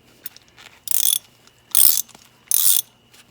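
A ratchet wrench loosens the oil drain bolt under a Hyundai Kona, giving three short, close bursts of rapid clicking separated by brief pauses.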